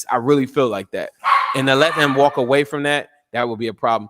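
A dog barks in the background of a room while someone talks steadily over it, the barking brief and partly buried under his voice.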